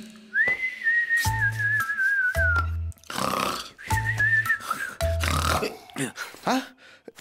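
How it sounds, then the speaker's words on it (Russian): Clear melodic whistling in the Russian animated cartoon New Prostokvashino, a gliding tone repeated in two phrases amid cartoon sound effects and low thumps. "Кто это свистел?"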